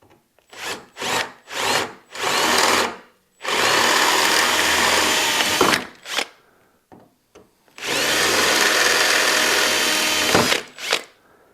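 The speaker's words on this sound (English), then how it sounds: "We want to make sure that the drill goes straight through now." A power drill with a 3/16 inch bit whirs through metal in several bursts: a few short pulses, then two long sustained runs of drilling, loud and close, with no talking.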